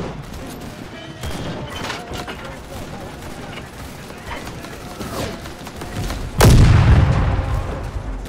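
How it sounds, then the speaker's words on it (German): Gunfire crackles through a WWI battlefield in Over The Top, scattered shots building until a loud grenade explosion bursts near the end, with a voice talking over the fighting. "Granate! Jetzt haben sie uns geknackt."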